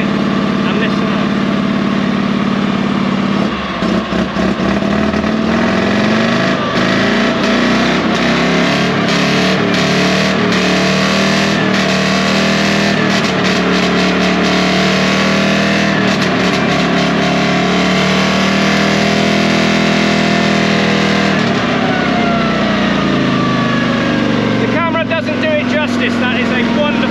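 An air-cooled Panhard 2.5 litre flat-four engine in an AML90 armoured car revs loudly and close up, a steady rough drone rising and falling as the throttle is worked, with a voice at times beneath it.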